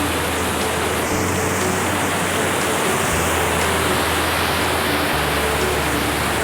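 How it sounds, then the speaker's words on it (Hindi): Guru Waterfall near Indore, a steady, loud, broadband roar of falling water that continues without a break, heard from nearby with no voices. "यह वाटरफॉल और पास जाने की कोशिश करता हूँ मैं"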